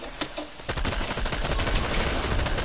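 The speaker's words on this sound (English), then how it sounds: "It's that burst SMG. The burst SMG with a scope." Burst SMG with a scope firing in Fortnite, a dense, loud run of rapid shots that opens after a brief quieter lead-in and continues steadily to the end, with no voices.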